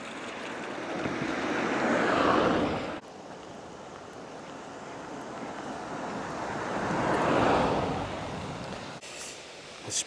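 Ocean surf beside a narrow coastal road in Japan among rice fields swells and fades in two broad washes, mixed with steady wind rush against the microphone.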